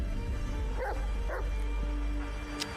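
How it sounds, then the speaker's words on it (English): An agitated dog in the video game Blair Witch gives two short sharp barks close together, followed by a brief yip, over a constant low hum of background ambience. "Dog sounds agitated."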